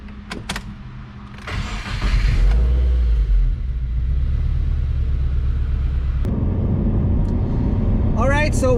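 A 2016 Subaru WRX pulls away on the road, heard from inside the cabin: a deep, steady engine and road rumble swells after a couple of seconds and holds loud and continuous, with a short clatter and a squeak at the end.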